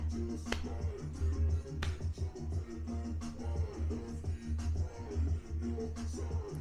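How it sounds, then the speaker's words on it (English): Rhythmic hand claps mark the count in a gogo dance lesson, sharp single claps spaced about a second or more apart over a steady low backing beat, close and moderately loud. "If you're having trouble identifying the rhythm, you can clap again."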